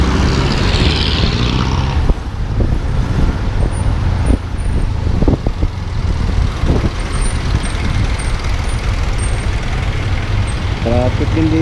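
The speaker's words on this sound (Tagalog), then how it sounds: "Traffic din dito, parang Maynila din." Road traffic on the way to Baguio City from Rosario, La Union: a continuous loud roar of cars and trucks with passing engines, brief air-brake hisses and scattered knocks, with some voices mixed in.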